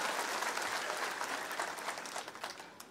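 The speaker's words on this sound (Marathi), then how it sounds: "एकदा टाळ्या वाजून त्यांचं सुद्धा अभिनंदन आपण करा" A large crowd of attendees at a Marathi political campaign rally applauds the women present, a dense, steady wash of clapping that carries on throughout and begins to thin slightly toward the end.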